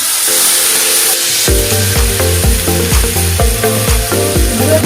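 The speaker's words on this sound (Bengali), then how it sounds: "আমি মশলার সঙ্গে ভাজবো, যাতে ব্রোকলিটা যাতে বেশি না পাকে।" Broccoli fries loudly with spices in a pan, a dense close sizzle under a regular series of clinking, scraping stirs.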